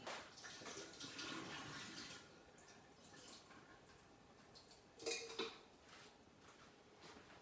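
Water draining from strained garden vegetables over a kitchen sink for homemade relish, a soft steady trickle and splash with a couple of brief clatters of dishes partway through.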